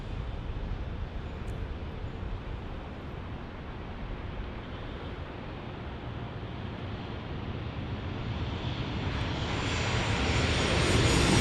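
A jet airliner taxiing at San Diego airport gives a steady, broad engine roar with a faint whine on top, holding close and constant and swelling slightly toward the end.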